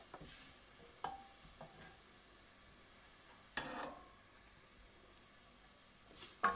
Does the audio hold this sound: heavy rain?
no